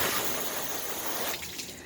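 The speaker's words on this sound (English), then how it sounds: "it's really sheeting water" Water rushes and splashes steadily across a car hood coated with an SiO2 sealant, sheeting off, then thins out toward the end.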